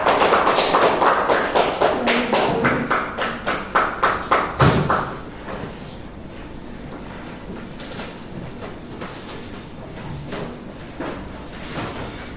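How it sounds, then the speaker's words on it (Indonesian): Classroom group applause after a presentation: a small crowd claps in a steady rhythm that speeds into a flurry, then fades into scattered claps and low room murmur. "Tepuk tangan dulu untuk kelompok kita."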